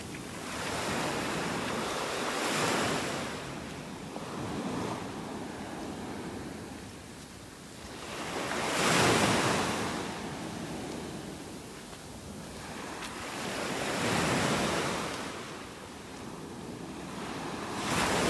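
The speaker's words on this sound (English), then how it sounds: "there's a lot more wave action right in this little area too, where the beach is eroded" Ocean waves breaking on an eroded beach in North Naples, Florida, with slow swells of roaring surf rising and falling every few seconds, plus some wind buffeting the microphone.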